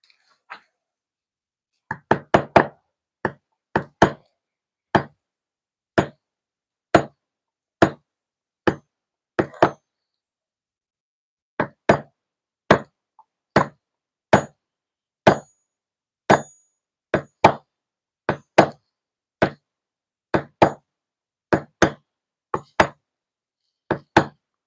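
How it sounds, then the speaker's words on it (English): Stone carving in Derbyshire stone with tungsten-tipped chisels struck by a nylon hammer: a long run of sharp, evenly spaced knocks, close and fairly loud, grouped into bursts with a few short pauses between them. "I'm carving it using tungsten tip chisels and a nylon hammer"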